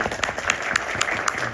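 An audience applauds after a lecture on drone warfare, steady dense clapping that fills the whole short stretch at a fairly loud level.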